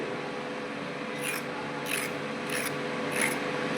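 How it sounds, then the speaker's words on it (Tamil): A peeler scrapes the skin off a raw carrot in four short, rasping strokes spaced roughly evenly, close up over a quiet room hum. "நல்லா இந்த மாதிரி தோலை சீவி எடுத்துக்கிறணும்."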